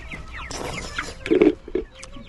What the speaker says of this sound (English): These chickens are following me everywhere.